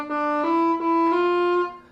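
A single soprano saxophone note is held for about two seconds, starting soft and swelling louder in a smooth crescendo before tapering off, played alone with no talking.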